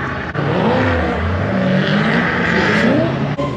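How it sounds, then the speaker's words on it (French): Drift championship cars accelerate on a circuit, a loud, close engine roar whose pitch climbs and dips without a break for a few seconds. "Là, ils prennent un max de vitesse, première ligne droite, puis après ils font tout le circuit en drift."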